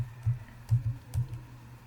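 Three soft, muffled computer keyboard key presses typing the Ctrl+Z undo shortcut, spaced evenly about half a second apart, low and dull against a quiet room.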